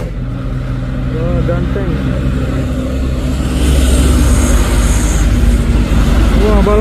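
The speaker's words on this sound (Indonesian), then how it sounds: "Wah, Isuzu dan Hino duet nanjak." Hino and Isuzu trailer trucks hauling containers up a hill, a loud, steady diesel engine drone that swells as they climb, with a person talking over it.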